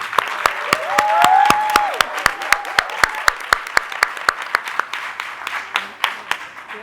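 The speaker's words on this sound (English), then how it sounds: "please give another round of applause to our students for the month of September" Scattered, distinct claps from a small group at an advisory board meeting, applauding students; a voice talks over the first few seconds, then the claps thin out toward the end.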